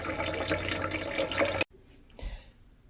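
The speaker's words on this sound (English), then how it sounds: "I filter my water." Water runs steadily through a filter for about a second and a half, a close splashing stream that stops abruptly, followed by faint drips and a soft low thump.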